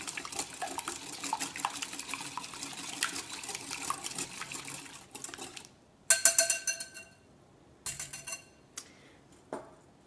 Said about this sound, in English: So I've got 3/4 cup of buttermilk and 1 egg, which I'm just going to quickly whisk together.